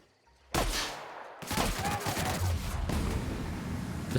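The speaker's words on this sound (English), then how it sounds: "Stealth shotgun, my favorite." A stealth shotgun fires in The Outer Worlds, a sudden loud close blast followed by a second burst of heavy gunfire and sustained rumbling chaos.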